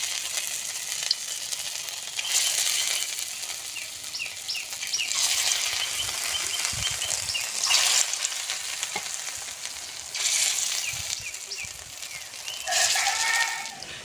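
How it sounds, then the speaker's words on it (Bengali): Thankuni leaf and red lentil fritters frying in oil, a steady close sizzle that swells and fades in waves as batches go in and are turned, with a rooster crowing faintly in the background. "বাদ বাকি বড়াগুলো আবার তেলে দিয়ে ভেজে নেব"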